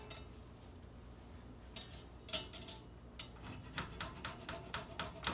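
Fresh garlic is grated over a microplane into melted butter for lemon pepper wing sauce, giving a series of soft, regular rasping scrapes close by, quiet and steady after a few sharper clicks.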